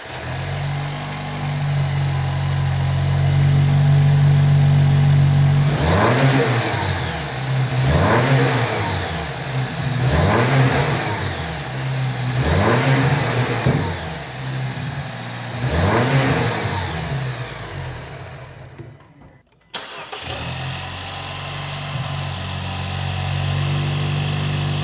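A 2018-2020 Jeep JL Wrangler fitted with a Turbosmart VR3 Dual Port Kompact EM blow-off valve idles loudly nearby, then revs five times in a steady rhythm. Each rev climbs and falls back with a sharp release hiss, and the engine settles back to idle.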